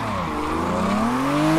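Car tires squeal in a long, continuous drifting slide in Assetto Corsa, rising pitch sweeping over a steady engine drone, loud and close throughout.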